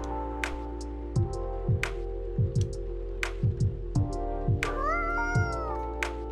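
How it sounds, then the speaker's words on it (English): Cat meows from the Coffee Talk video game, several short repeated mews over a steady musical background with light ticking, ending in a longer drawn-out meow. "Oh, does the cat want something? Oh, poor kitty."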